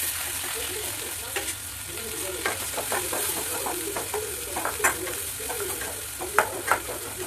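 Green chillies, onion and tomato fry in oil with cumin and mustard, giving a steady close sizzle broken by frequent scraping stirs of the spoon, with no talking.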